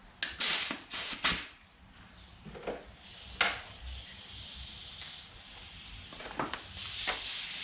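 A socket wrench loosens a fork bolt on a 2019 Kawasaki Vulcan 650 ABS: a few sharp, close ratcheting clicks and metallic bursts early on, then quieter scattered mechanical noises.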